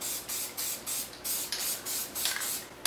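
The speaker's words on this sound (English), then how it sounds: "Spray the yellow." Spray bursts onto craft foam sheets, 3mm yellow and 2mm, for fly tying bodies: about six short, loud hissing pulses in quick, even succession, close by, with no talk.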